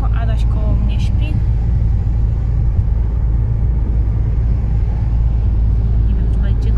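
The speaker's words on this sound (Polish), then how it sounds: "sorry za te podskoki, no ale auto tak akurat jedzie" Steady low rumble and road noise of a car driving along a bumpy road, heard from inside the cabin, continuous and fairly loud with a few faint higher knocks on top.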